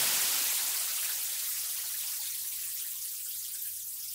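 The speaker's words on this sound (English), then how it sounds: "It's kind of like we're turning down the tap a little bit and just getting water to trickle out" Water trickling from a tap, synthesized in Ableton Live, gives a dense, bright, bubbly hiss that holds steady and fades slowly, with no voices.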